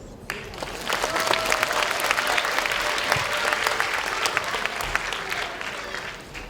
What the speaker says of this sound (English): Please give you another round of applause to your teachers.